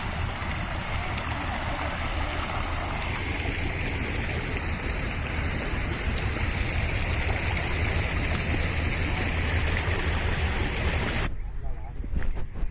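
A river spreads across a wide bed, its water running in a steady, moderately loud rush that continues almost throughout before it cuts off near the end.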